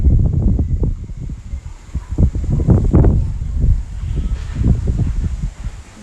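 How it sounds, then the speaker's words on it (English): Strong wind blows on a very windy night, making a loud, continuous gusty roar that rises and falls close to the microphone, buffeting it, with faint rustling throughout and no voices. "It's so windy."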